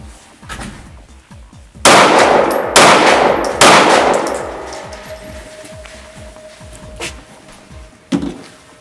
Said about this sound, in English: Now we're going to shoot a backpack with just a book in it.